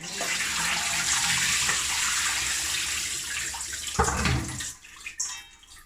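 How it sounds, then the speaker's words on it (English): Cooled whole wheat udon noodles being drained, with water pouring and splashing steadily for several seconds before tapering into a few brief, irregular splashes. "So now I'm gonna drain these again."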